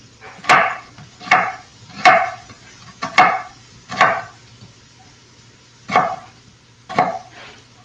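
A knife chops sausage or vegetables for Tuscan soup on a cutting board, making about eight sharp, distinct thuds at uneven intervals, close and loud, with a brief pause in the middle and no talk.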